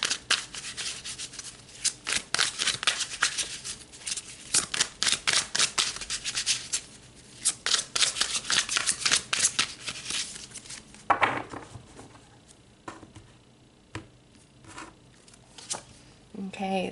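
Tarot cards being shuffled up close, a fast run of crisp riffling and flicking bursts in the first half, then softer scattered card slaps and rubs with quieter gaps.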